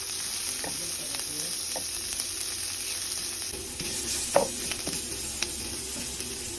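Ginger sautés in olive oil with a steady low sizzle, broken by occasional clicks and one sharper knock of a utensil against the pan, close by and fairly quiet.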